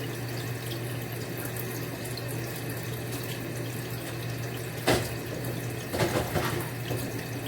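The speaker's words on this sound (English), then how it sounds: "I keep my water running like I don't have any bills" Water runs steadily from a kitchen tap into the sink in a continuous hiss, with a couple of brief clatters of dishes or utensils partway through.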